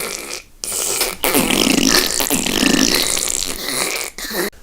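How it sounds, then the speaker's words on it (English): A comedic fart sound effect, loud and sustained for several seconds as one long, rough, sputtering blast with a brief dip near the start. "drooling and farting like Jabba the Hutt"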